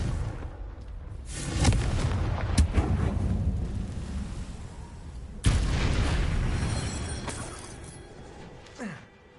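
Confringo blast spell explosions in the video game Hogwarts Legacy, heavy booming detonations with rumbling tails, one around the start and a sharper loud blast midway, sounding close and powerful.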